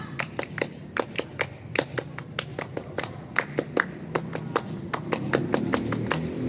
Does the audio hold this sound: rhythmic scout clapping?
yes